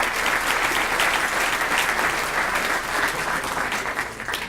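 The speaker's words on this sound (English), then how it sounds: "Let's give them all a big round of applause." Audience at a Rotary club meeting applauding prize winners, a dense, steady round of clapping that holds loud throughout and tapers only slightly at the end.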